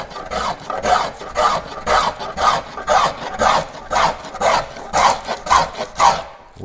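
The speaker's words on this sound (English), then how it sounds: "planing all the sides here" A hand plane shaves along the sides of a wooden paddle being shaped, giving close, rhythmic rasping strokes about twice per second, evenly repeated with no talking.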